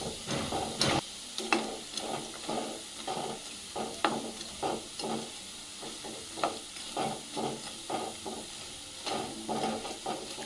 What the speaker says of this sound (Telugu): లో ఫ్లేమ్లో పెట్టుకొని మంచిగా గోలించుకోవాలి